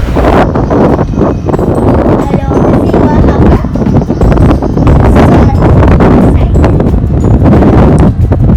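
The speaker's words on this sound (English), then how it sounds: "weather was windy that day." Strong wind buffets the microphone outdoors on a blustery day, a loud continuous rumbling roar with gusty surges and no letup.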